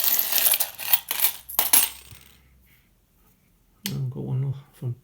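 Metal coins from a collection, including French and Canadian pieces, clink and drop in a quick cluster of bright, close impacts before a pause, then a person talks.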